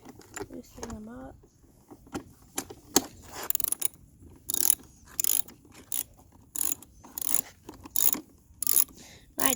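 Bolts on a dirt bike air filter cover loosened by hand with a ratcheting tool, making repeated short mechanical clicking bursts in a steady rhythm, close up, with a brief voice near the start.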